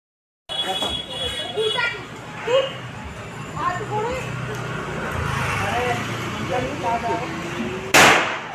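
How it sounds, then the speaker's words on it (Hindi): A firecracker set off outdoors on a Delhi street goes off with a single loud, sharp burst near the end, after a stretch of voices and background traffic. "देखो ये बम जलाएगा, कितने बड़ा जला"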